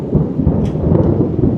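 Steady rain with deep, rolling thunder rumbling throughout, loud and close, with no talking.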